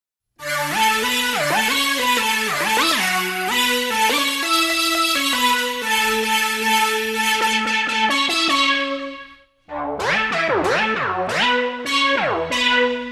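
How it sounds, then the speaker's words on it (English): A buzzy synthesizer with a vocal sample loaded into its noise oscillator plays sliding, wobbling tones with a breathy vocal-like texture, loud and continuous, pausing briefly before resuming with swooping pitch bends. "this specific sound actually had a vocal sample loaded into the noise oscillator"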